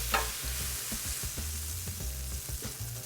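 Shrimp frying in a hot pan for shrimp fried rice, with a steady, close sizzle and occasional stirring knocks and scrapes, no talking.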